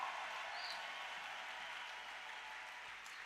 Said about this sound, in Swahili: Pika makofi.